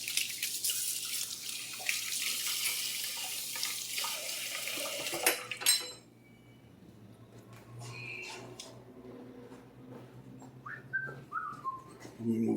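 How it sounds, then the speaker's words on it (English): Hands are rinsed under a running kitchen tap for about six seconds, a steady close hiss of flowing water that then stops, followed by faint clinks and handling sounds. "Let me rinse off my hand real quick now that I made a mess of that."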